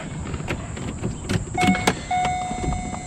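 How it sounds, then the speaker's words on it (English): Headlight motor on a C5 Corvette grinding as its stripped plastic gears slip, a close, harsh mechanical whir with uneven clicks and a rising tone, heard over faint background hum. "inside that motor are plastic gears, and over time they can strip out and cause this really nasty grinding noise"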